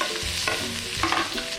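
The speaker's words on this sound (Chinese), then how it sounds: "我们再接住爆香这个蒜米跟这个姜" Garlic and ginger stir-fried in hot oil for a crayfish dish, a steady close sizzle with repeated scraping stirs of a spatula through the pan, no voices.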